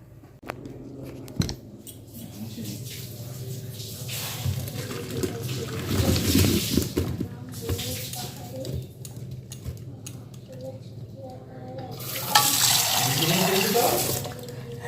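Freshwater mussels are scrubbed by hand in water, with sloshing, splashing and clattering shells in bursts, louder near the middle and end, under occasional talk.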